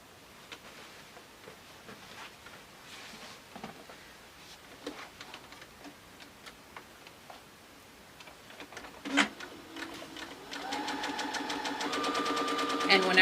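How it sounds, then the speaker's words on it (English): A sewing machine whirs into a steady, rapid run stitching a fabric gift bag with a 1/4 inch seam allowance near the end, preceded by scattered clicks and handling noises. "we're going to take this over to the sewing machine and we're going to stitch this"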